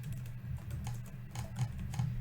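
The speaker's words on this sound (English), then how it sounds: "I'm going to type Game Over" Soft, quick key clicks patter on a computer keyboard as a short phrase is typed, with a low hum beneath and no voices.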